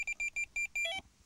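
A Tx-i Plus bite alarm buzzer beeps during programming, a run of five short, evenly spaced electronic tones followed by a longer warbling tone, clear and close with no talk.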